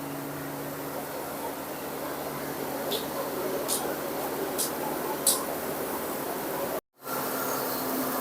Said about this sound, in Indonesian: Disemprotkan secara bertahap, 3 kali semprot, berhenti dulu, 3 kali semprot, berhenti.